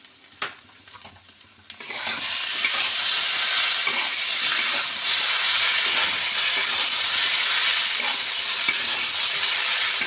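Ground poppy seed paste hits hot oil with cauliflower and potatoes. A few quiet knocks come first, then a sudden loud, bright sizzle and hiss that stays intense throughout, with stirring scrapes mixed in.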